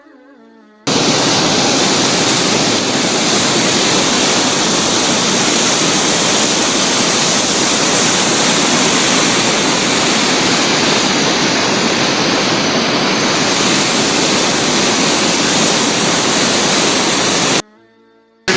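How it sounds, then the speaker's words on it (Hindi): High-pressure river water rushes through partly opened headworks gates, a loud, steady, broadband roar heard close and unbroken for most of the span with no voices over it. "ये पानी देख रहे हैं आप लोग कि पानी का माशाल्लाह काफ़ी ज़्यादा प्रेशर है"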